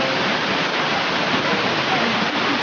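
Caledonia waterfall near Platres in the Troodos mountains roars as a steady, dense rush of falling water, loud and close throughout with no break.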